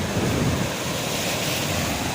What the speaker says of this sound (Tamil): கடல் கொந்தளிப்புடன் காணப்படுகிறது.